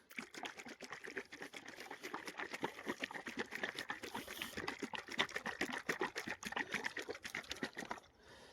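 A plastic bottle of Sweet Kill 240 pesticide shaken by hand, liquid sloshing in rapid rhythmic strokes, close and steady for several seconds before stopping abruptly.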